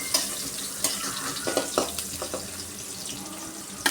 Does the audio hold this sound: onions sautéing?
yes